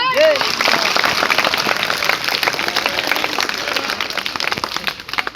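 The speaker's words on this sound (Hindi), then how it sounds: "एक बार फिर से जोरदार तालियां।" A school audience in the courtyard claps in loud, dense applause that fills the whole stretch, with scattered cheers and voices mixed in.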